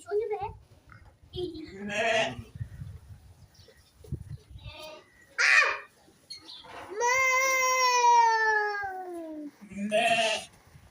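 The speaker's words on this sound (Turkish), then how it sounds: "Keçi." Goats bleat loudly nearby, one long quavering call standing out, with people chatting in between the cries.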